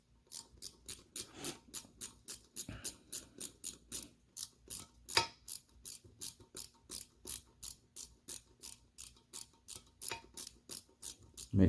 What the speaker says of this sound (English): you don't want to be sitting there trying to wait for the torque wrench to click